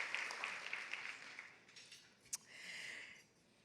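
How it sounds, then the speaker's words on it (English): Luncheon audience at a women's empowerment event gives a round of applause for three speakers, a soft, distant patter that fades, then swells briefly again and dies away. "Let's give one more round of applause to Erica, Romy, and Elaine."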